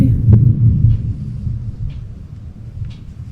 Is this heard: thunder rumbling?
yes